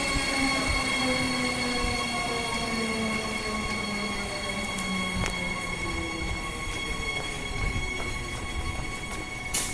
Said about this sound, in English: here is the last train ever going in the outbound direction on platform 2 at Bayswater